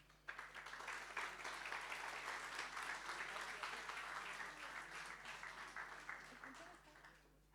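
Seminar audience at an international beekeeping event gives a warm round of applause to welcome a speaker, dense steady clapping that tapers off toward the end.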